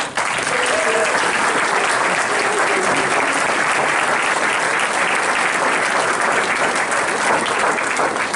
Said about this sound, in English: a big round of applause for all of our honored guests